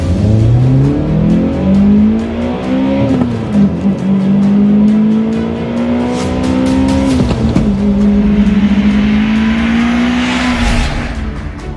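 Toyota Celica GTS with a 2ZZ engine revs hard and loud, climbing in pitch, dropping briefly at shifts and surging again, with a short tire chirp near the end.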